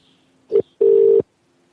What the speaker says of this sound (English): calling her now